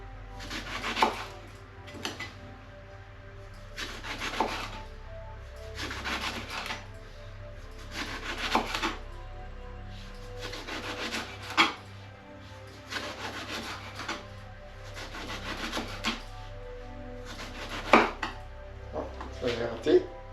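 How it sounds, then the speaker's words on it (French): Cleaned vegetables sliced into thin rounds with a knife on a board, a steady series of about a dozen short rasping cuts in regular rhythm, close and fairly quiet, for a spring-flavoured tart. "Et là pareil, on coupe les rondelles"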